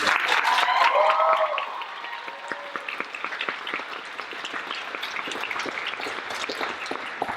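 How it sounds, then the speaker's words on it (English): An audience at a stage performance of A Midsummer Night's Dream breaks into applause, strong clapping at first that thins to scattered claps, with a brief whoop or voice rising above it early on. "So give her a round of applause."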